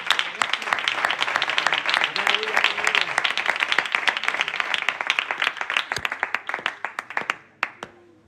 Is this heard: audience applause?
yes